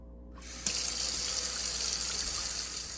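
A kitchen sink filling with cold water from the tap: a brief quiet start, then a sudden steady rushing gush that stays loud and constant to the end.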